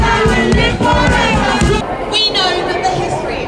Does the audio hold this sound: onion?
no